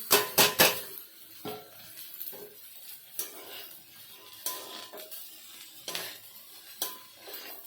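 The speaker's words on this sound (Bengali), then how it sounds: "আলুগুলো ভালো করে কষে নিয়েছি, এবার রাজমাগুলো এর মধ্যে দিয়ে দেবো।" Kidney beans tipped into a pot of fried potatoes and stirred, with several sharp clinks and scrapes of a spoon against the pot, loudest at the start, then softer scattered knocks over a quiet background.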